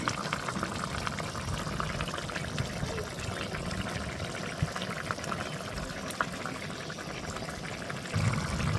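Liquid pours into a pan of vegetable curry after the spices and salt have cooked in. A steady, dense splashing and bubbling runs throughout, close and fairly loud, with no speech.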